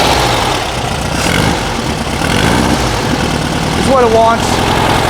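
A supercharged 1600cc VW Karmann Ghia engine runs with a rough, sputtering idle and struggles to rev, while a person talks over it.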